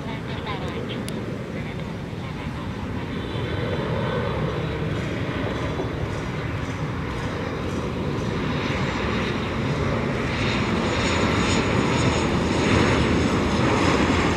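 Steady broadband roar of a China Airlines Boeing 737 operated by Mandarin Airlines, flying from Taichung to Tan Son Nhat airport, heard from inside the cabin, constant and fairly loud, swelling slightly toward the end.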